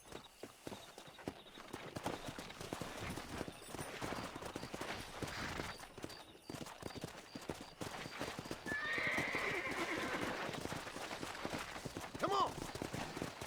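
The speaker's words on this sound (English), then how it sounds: "Let's see if we can't wrangle some horses." Horses neigh and whinny over steady clip-clopping hooves during a wrangling scene in the Western video game Red Dead Redemption, with a man briefly calling out to urge them on.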